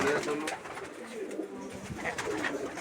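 Pigeons in a large loft of kept pigeons coo softly through a steady, noisy background hum, with faint voices mixed in.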